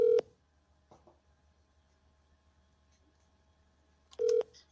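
Two short telephone dialing tones, one at the start and another about four seconds later, sound loud and clear, with near silence between them.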